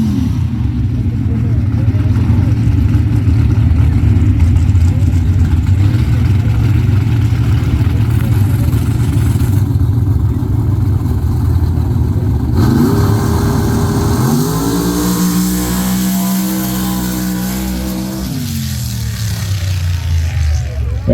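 A Ford and a Chevy super stock car launch into a dirt drag race, engines droning loud and steady before revving hard and climbing in pitch as they pull away, with an announcer talking over the noise.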